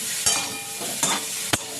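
Cauliflower frying in a pan gives a steady close sizzle, broken by three short scraping stirs of a spatula, with no talk.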